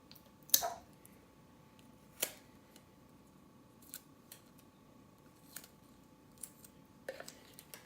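Tape is pulled and torn off a roll in a quiet room, giving a few sharp rips and crackles separated by soft handling clicks, close and isolated.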